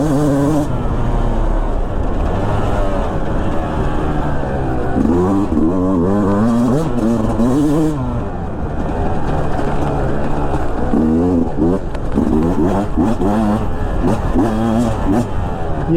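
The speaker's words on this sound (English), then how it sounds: "you can still rev this thing out a lot because it is a smaller bore 2-stroke, and it really does like to scream" A Beta 200 RR smaller-bore two-stroke dirt bike revs hard and screams up high, its pitch rising and falling repeatedly in loud, continuous sweeps close by, with a voice talking briefly over it.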